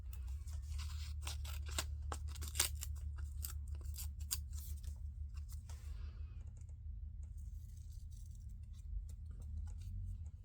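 Scissors cut a small strip of paper during a card-stamping craft session, a quick run of close, crisp snips for about six seconds over a low steady hum, then only the hum remains.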